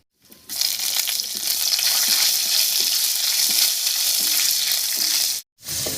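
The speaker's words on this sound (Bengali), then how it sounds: "এবার এর মধ্যে দেব কয়েকটা চিড়ে রাখা কাঁচা লঙ্কা" Slit green chillies go into hot oil with ginger for a spinach recipe, a close, loud, crackling sizzle with spoon stirring, cutting off briefly before resuming.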